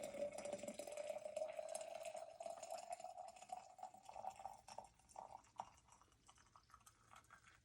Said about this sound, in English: I'm going to pour the water up to the neck of this one.